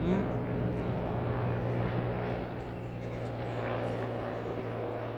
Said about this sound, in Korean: 저 군용 헬기가 아닌가?